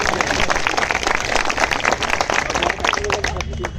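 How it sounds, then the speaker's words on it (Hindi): A crowd applauds, dense clapping mixed with cheering and babble from many people, loud and continuous. "ताली बजा दीजिए।"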